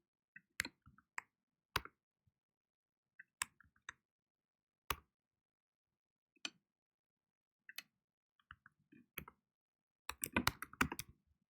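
Sparse computer keyboard keystrokes come in short bursts with pauses between them while a name is edited, ending in a quick flurry of typing. Close and fairly quiet, with no talk.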